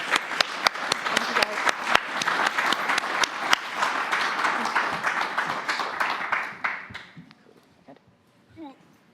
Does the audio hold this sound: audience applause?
yes